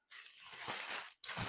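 Model kit body part being pulled from its foam packaging, a close, soft rustling scrape that runs for about a second, pauses briefly, then resumes.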